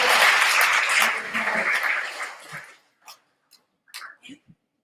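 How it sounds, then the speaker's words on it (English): Applause from an audience at a women's leadership academy event, a full burst of clapping that fades out after about two and a half seconds, followed by a few sparse scattered claps in near silence. "Another round of applause, please, for the Deputy Chief."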